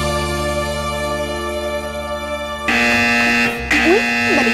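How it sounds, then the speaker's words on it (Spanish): Buzzing electronic alarms sound in a video game, a steady droning tone that switches abruptly to a louder, brighter alarm layer partway through, with no speech. "¿qué son todas esas alarmas?"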